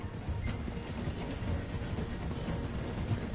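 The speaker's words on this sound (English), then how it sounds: "The train is slowing down to go through the station." A video game train rumbles steadily as it slows through a station, with a continuous low rolling clatter of wheels and no talk.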